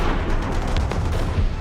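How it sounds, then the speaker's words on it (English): Anti-aircraft guns fire 76 millimeter shells into the sky, a dense, continuous rumble of overlapping booms and gunfire with low thumps, heavy and distant-sounding throughout. "Firing 76 millimeter shells into the air like crazy."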